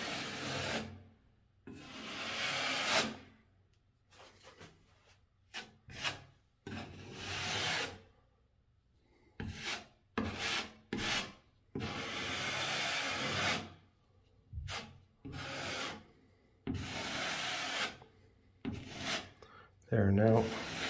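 Scraping excess drywall compound off a wall repair with a blade, a series of rasping strokes in separate bursts with short pauses between them, close by and fairly loud.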